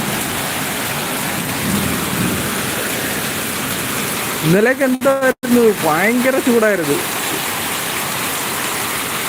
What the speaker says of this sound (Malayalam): ഒരു മൂന്നര കഴിഞ്ഞപ്പോൾ നല്ലൊരു മഴയായിരുന്നു അതിപ്പോൾ ഇപ്പോഴും പെയ്തുകൊണ്ടിരിക്കുകയാണ്